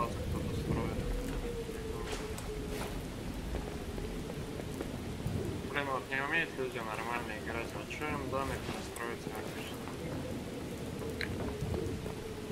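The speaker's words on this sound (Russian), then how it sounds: "Звуки дождя, грома," Steady rain with a low rumble of thunder underneath in the video game Miscreated, while someone talks over it for much of the stretch.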